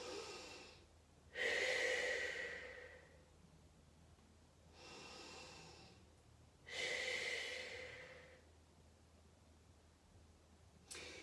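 Slow, audible breaths during a Pilates exercise, heard close and soft: several long breaths in and out that swell and fade in a steady rhythm, with quiet pauses between them.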